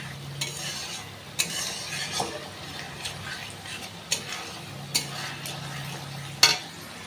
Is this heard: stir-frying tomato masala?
yes